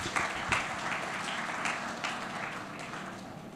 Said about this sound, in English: Give a big hand of applause.